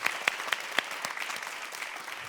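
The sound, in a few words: audience applause for panel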